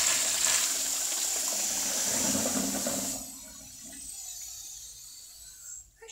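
An antique Maddock Madstone pedestal urinal flushes with a loud rushing gush of water for about three seconds, then drops to a quieter trickle and refill, heard up close with no talk.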